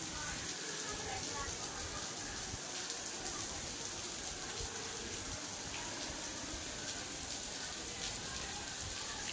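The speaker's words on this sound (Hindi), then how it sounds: "तेज़ बारिश हो रही है, बच्चे आ रहे हैं।" Heavy monsoon rain pours steadily in an Indian village during a sudden weather change, a dense, continuous hiss of drops striking surfaces throughout, with a voice faintly audible under it.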